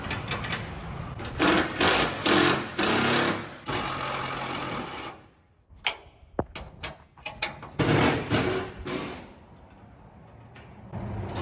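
Hood bolts come off a 1953 Needlenose Peterbilt truck, probably with a power tool: loud whirring bursts of fastener spinning alternate with clanks and short metallic knocks, close by, with brief pauses in between.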